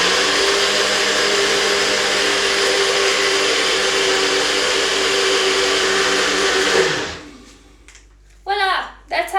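A kitchen blender whirs loudly and steadily while making a breakfast smoothie, then cuts off abruptly near the end. A voice follows in the quiet afterward.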